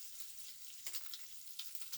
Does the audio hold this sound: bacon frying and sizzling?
yes